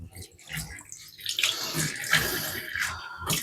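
Jars and a spoon washed under a running tap, a steady close splash and gurgle of water with small clinks and drips throughout.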